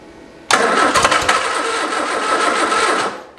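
A 1973 MG Midget parked for over 40 years cranks on its starter, a sudden loud, rapid churning that runs steadily for about two and a half seconds without catching, then cuts off.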